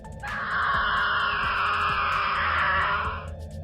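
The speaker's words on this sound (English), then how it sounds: "Suddenly, we hear a man screaming." A man screaming as a horror story sound effect, one loud, sustained, strained cry lasting about three seconds over a low rumbling background, with faint clicks before and after.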